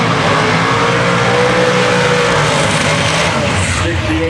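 A 1968 Camaro Pro Mod drag car races heads-up over an eighth mile in the XDR class at about 170 mph. Its engine roars loud and unbroken the whole time, with an announcer's voice running over it.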